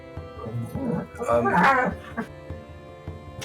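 A dog yips, whines and barks in short bursts nearby, with one louder outburst in the middle.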